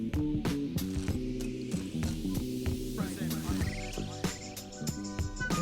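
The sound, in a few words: mixer blending cookie dough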